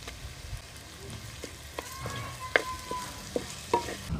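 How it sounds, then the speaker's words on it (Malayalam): Crushed ginger and garlic fry for a mussel curry, a soft, even sizzle with sharp scrapes and taps of a spoon stirring in the pan at intervals, up close and fairly quiet. "അടുത്തത് നമ്മളെ ചതച്ച് വെച്ചിരിക്കുന്ന ഇഞ്ചിയും വെളുത്തുള്ളിയാണ് ഇടാൻ പോകുന്നത്."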